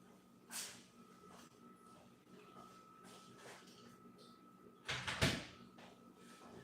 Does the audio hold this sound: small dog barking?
no